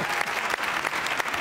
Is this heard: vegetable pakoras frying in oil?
no